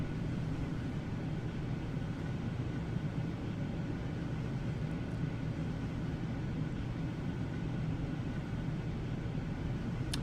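Airbus A350 engine number 1 spooling up in the MSFS2024 flight simulator, a steady broadband jet roar that holds constant and fairly quiet throughout, with no voices.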